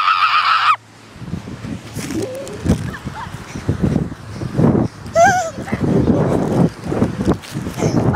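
Geese honk loudly and repeatedly while chasing people, with close, agitated honks and hisses among panicked shouting and running sounds.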